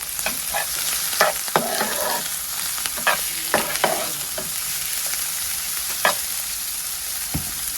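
Chopped onion frying in a pan with garlic and ginger, a steady hiss of sizzling oil broken by repeated scraping stirs and clinks of a spatula, close and alone.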